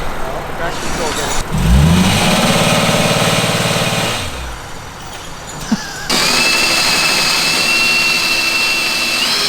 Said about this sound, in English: Chris, I hope you know you're the only person I do a burnout for every time